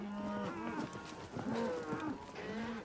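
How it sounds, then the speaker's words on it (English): Cattle at a feedlot low repeatedly, with several drawn-out moos overlapping and following one another at a moderate distance over a faint background hum. "the cattle move smoothly on the way to a squeeze chute where they are inoculated"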